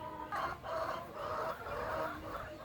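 Chickens clucking nearby in a rural yard, a run of repeated throaty clucks in rhythmic bursts, moderately loud with no talk.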